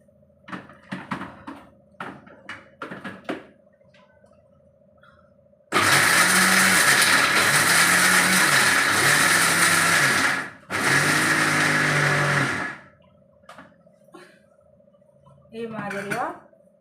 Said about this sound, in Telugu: ఇది మిక్సీ చేసుకోవాలండి.